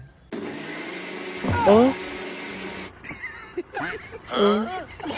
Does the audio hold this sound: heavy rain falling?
no